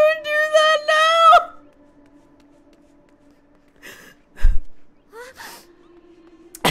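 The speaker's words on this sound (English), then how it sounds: "Not the gasp." A character's gasp emote in the Final Fantasy XIV video game sounds as a sharp, voiced intake of breath, then quiet game ambience with a few short soft breathy effects and a thud.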